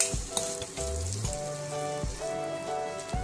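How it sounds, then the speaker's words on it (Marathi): Masala ingredients, ginger pieces among them, sizzle and fry steadily in a pan for a traditional Marathi drumstick curry, with a close, continuous crackle and occasional soft clinks and stirring taps, no voices. "सगळं साहित्य असं छान परतवू द्या"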